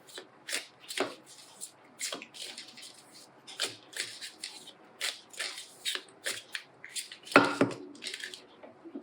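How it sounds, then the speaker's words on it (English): A deck of tarot cards is shuffled by hand up close, with quick irregular riffles and slaps, some louder flutters, and faint talk in the background. "Put these cards back, and I'm going to reshuffle them."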